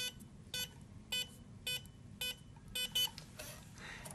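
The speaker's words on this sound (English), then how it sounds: "you continue to hold until you hear it beeping" A SecuRam electronic safe lock gives short electronic beeps at a steady rhythm, about half a second apart. The beeps are faint over a low background hum and blur into a noisier sound near the end.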